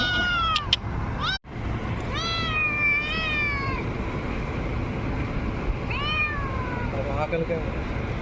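A cat meows several times in drawn-out, rising and falling cries, with a steady low background hum throughout.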